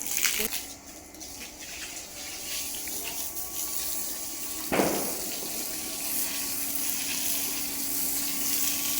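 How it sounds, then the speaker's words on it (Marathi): Steady rush of cold water poured continuously onto feet, close and fairly loud, with a brief splash partway through. "थोडं माझ्या पायांवर टाकतं पाणी"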